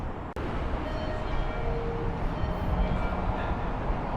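At a Japanese metro station, a train produces a steady, loud rumble with faint tonal squeals, preceded by one sharp click near the start; no talking.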